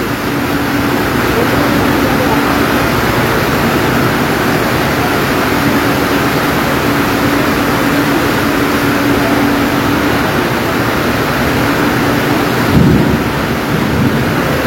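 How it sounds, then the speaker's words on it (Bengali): Heavy rain pours down at Dhaka airport railway station in a loud, unbroken roar that fills the whole stretch, with a brief louder bump near the end. "ট্রেন থেকে নামা মাত্র কি পরিমাণ বৃষ্টি, কি পরিমাণ বৃষ্টি।"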